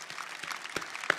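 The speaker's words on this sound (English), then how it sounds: "Let's give them a round of applause." Brief, fairly faint audience applause at a Class of 2024 graduation ceremony, honoring families: scattered claps from a crowd, with no talk over it.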